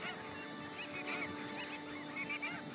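A flock of about forty shorebirds on an Auckland coastline calls as it departs, a faint, distant chorus of overlapping high chattering and piping notes over steady background hiss.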